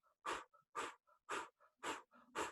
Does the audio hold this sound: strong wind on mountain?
no